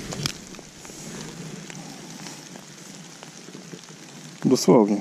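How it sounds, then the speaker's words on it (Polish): Steady patter of rain falling outdoors, a soft continuous hiss throughout, with someone briefly speaking near the end. "Pada deszcz, chodzi się nieprzyjemnie."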